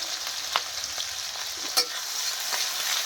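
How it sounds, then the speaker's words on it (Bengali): Onions and green chilies fry in oil with bay leaves and a dried red chili, making a soft, even sizzle with occasional light stirring taps, close and without talk. "দিয়ে ভালো করে পেঁয়াজটা ভেজে নিই"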